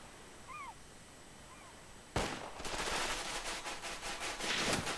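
A single sharp gunshot from a Wii Party minigame cracks out loudly after a quiet stretch with faint chirps, followed by a bright, busy rush of game sound effects.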